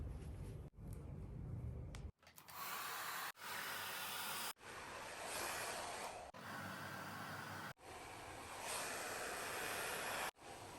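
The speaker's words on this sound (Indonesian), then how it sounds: "ini saya udah selesai ngeblow" Hair dryer blow-drying hair during a home smoothing treatment, a steady close rushing blast that cuts in and out several times as it is switched or moved, with no talking.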